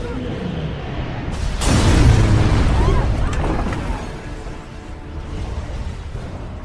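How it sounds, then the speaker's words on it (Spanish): A recreated blast of the huge Nazi Zeppelin airship exploding: a sudden loud deep boom that swells into a long rumbling roar, then slowly fades, with no voices over it. "Estos son sonidos recreados de la explosión en un documental."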